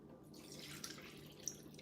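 Chicken broth poured through a colander lined with a towel makes a soft, steady trickle of liquid, with a couple of brief drips standing out near the end.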